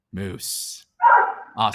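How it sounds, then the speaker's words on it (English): A pet dog barks loudly in short bursts close to the microphone, alternating with a man's speech. "my dog just started going nuts"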